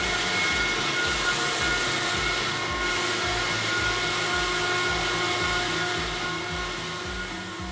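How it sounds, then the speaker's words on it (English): A vacuum pump test rig running under extreme humid conditions, a loud continuous mechanical whir with a steady rhythmic low pulsing throughout, no voices. "This is the piece of equipment that allows us to test our vacuum pumps under the most extreme humid"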